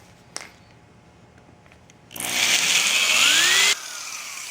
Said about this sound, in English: so we'll drill that hole.